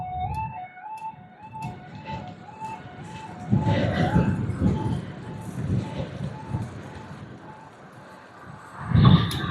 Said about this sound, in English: Oh, it's bleeping. There's a train coming.